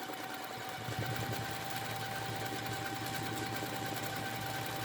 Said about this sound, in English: I'm going to do a few stitches in place just to kind of lock it in, and then start into a swirl.